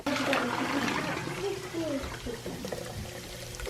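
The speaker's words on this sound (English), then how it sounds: "We're gonna pour this tea." Peppermint black tea poured from a pot into cups outdoors near a waterfall, a steady liquid splash with trickling that runs throughout, under people talking.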